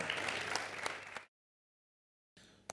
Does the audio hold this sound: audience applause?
yes